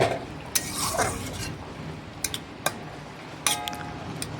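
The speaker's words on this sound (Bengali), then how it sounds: "নাড়াচাড়া করে দেখে নিচ্ছি আলুগুলো সেদ্ধ হয়েছে কি না।" Boiled potatoes and okra stirred in a pot, a spoon scraping and clinking against the metal in a few sharp knocks over a soft, steady background bubbling.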